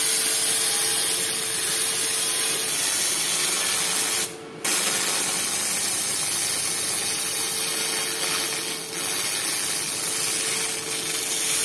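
A portable vacuum fiber laser cleaner strips rust, its smoke and dust drawn off through an extraction pipe, giving a steady loud hissing roar that runs almost unbroken, with one brief cutout partway through.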